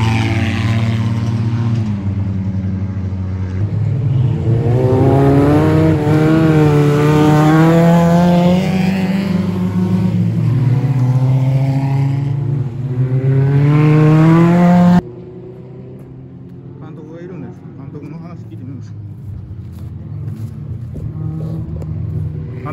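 Suzuki Jimny cars in an endurance dirt race roar past loudly, engines rising and falling in pitch as they rev through the gears, then the sound drops abruptly to a fainter, distant engine drone.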